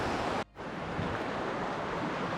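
Sea waves wash against the walls of Padmdurg (Kasa Fort), a Maratha-era coastal fort, in a steady close roar with wind noise and one brief dip.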